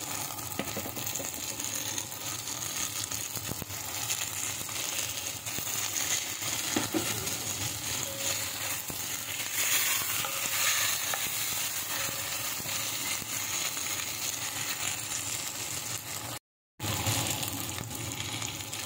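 Rice wine poured into a sizzling pan of deer tendon and spare ribs stew, giving a steady, fairly loud frying hiss with small clinks and rattles throughout, broken by one brief drop to silence near the end.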